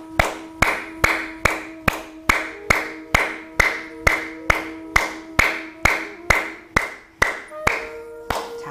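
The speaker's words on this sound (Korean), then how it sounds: "자, 박수" Sharp hand claps repeated at an even, steady pace, about sixteen crisp strikes in a row, close and loud, during a seniors' breathing and qi exercise class.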